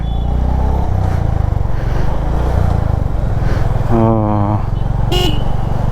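Motorcycle horn honking after being tightened during a roadside stop on a solo ride from Guwahati to Shillong, sounding as a short, loud, buzzy blast over steady engine and traffic rumble, followed by a second brief toot.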